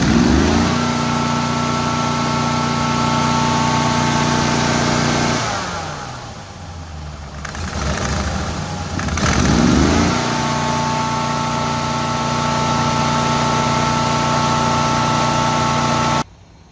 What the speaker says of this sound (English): we're about to fire this thing off and see how she runs with the new camshaft and gears installed